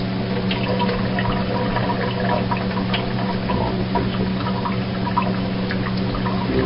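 Steady running water from a sink tap with a continuous splashing rush, close by and fairly loud, holding constant for several seconds with no voices.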